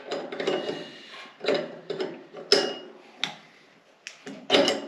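Ratcheting and clicking metal mechanism as a tool turns a chainsaw piston anticlockwise during a clutch change, in several irregular bursts with short pauses, fairly close.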